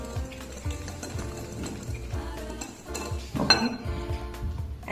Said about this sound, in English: Now first we'll just mix this dry ingredients well.